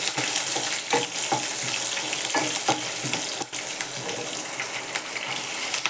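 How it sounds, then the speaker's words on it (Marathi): Green chillies and peanuts fry in hot oil with a steady, dense sizzle and crackle, punctuated by sharp spattering pops and a few stirring scrapes, loud and close with no talk. "मिरच्या तेलात टाकलं की बी उडतं ना, लक्ष ठेवायचं जरा. आणि शेंगदाणे घालून घेते."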